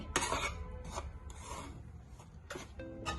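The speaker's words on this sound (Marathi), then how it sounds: "एकसारखं अशा पद्धतीने अशा डायरेक्शननी पीठ भाजून घ्यायचं आहे" Wheat flour is dry-roasted and stirred in a pan with a spoon, giving quiet, close, repeated gritty scraping strokes in an uneven rhythm.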